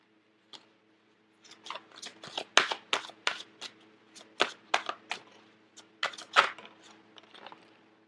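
Tarot cards being shuffled close up in a quick series of crisp snapping riffles and taps, starting after a single tap and a pause, with nothing else audible.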